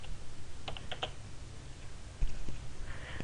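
A short, quiet burst of typing on a computer keyboard: a few quick key clicks clustered together, then a single later tap, with no voices.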